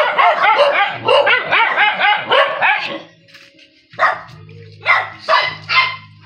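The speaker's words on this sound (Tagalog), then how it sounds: "Yung mga aso, dami." Several dogs bark loudly and close by in rapid overlapping bursts, pausing briefly before more sharp barks and yips resume.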